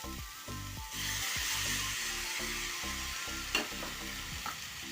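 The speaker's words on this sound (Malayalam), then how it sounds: "അടപ്പെല്ലാം ചൂടായി ഇതിലേക്ക് നമുക്കിനി പരിപ്പ് ഇട്ട് കൊടുക്കാം" Lentils (dal) tossed into a hot pan for a drumstick-leaf and lentil thoran, sizzling steadily over a broad hiss, with a brighter sizzle swell as they go in and several sharp scraping stirs of a spatula.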